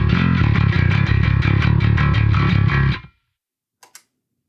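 Heavily distorted bass guitar run through stacked preamps and distortion pedals for a metal tone, chugging in a steady rhythmic riff of loud palm-muted notes, then stopping abruptly, followed by a couple of faint ticks.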